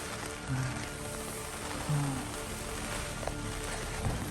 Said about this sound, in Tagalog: Yan, lakas ng ulan no.